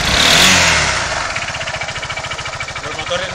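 A Honda Forza scooter engine runs on a test bench without its clutch or variator. A loud initial burst settles into a fast, even, hammering idle with a steady pulse, close and alone.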